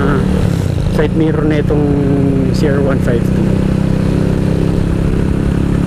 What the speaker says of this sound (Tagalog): yung tunog niya, nagpalit ako ng pipe nito, yung kinuha ko yung BR battle pipe